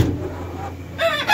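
Hens in a coop, some sitting to lay and one broody golden hen, give short clucking calls over a steady background hum, with a brighter burst of sound near the end.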